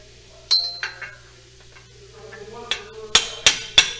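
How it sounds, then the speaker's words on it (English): Metal tool strikes on a car starter solenoid under a Genesis G70, hit with a 3/8 extension: a few scattered taps early, then three sharp, loud clanks in quick succession near the end, with no talk. "I'm just gonna hammer that solenoid there."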